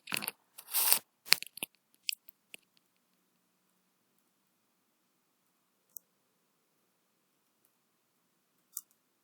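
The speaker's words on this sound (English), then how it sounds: "Just I will type here." Several quick clicky taps on a computer keyboard cluster in the first two seconds, then a couple of isolated faint keystrokes follow over a quiet background.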